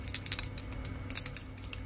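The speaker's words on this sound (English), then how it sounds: "You can hear the rollerball in them" A small hard rollerball rattles inside a Deco Color gold or silver leaf paint marker in quick clicky bursts as it is shaken, close and faint.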